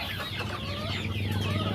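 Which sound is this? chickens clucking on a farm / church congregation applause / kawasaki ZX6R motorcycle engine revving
chickens clucking on a farm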